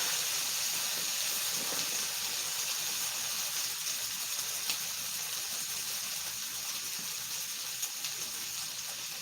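Water is poured into a skillet of frying potatoes, producing a continuous broadband hiss and gushing steam sound at moderate level, steady and unbroken for the whole stretch.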